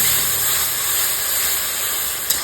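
Ginger garlic paste fries in a hot pan for a village-style fish curry, a steady loud close hiss of sizzling throughout with no talk.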